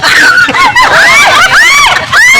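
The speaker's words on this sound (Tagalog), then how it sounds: "Oo. May sumisigaw." High, wavering screams, loud and close, rising and falling in several bursts over about two seconds, filling the whole moment with little else audible.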